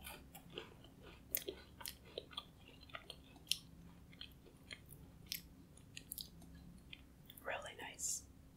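A cookie is chewed close to the microphone in an ASMR eating session, with soft, irregular bites and wet chewing and a few crunchier moments, under quiet whispering.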